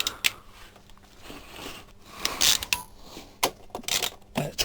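A spanner working a 19 mm nut on a motorcycle chain adjuster gives irregular metallic clicks, ratcheting and scraping, close and moderately loud with scattered sharp knocks.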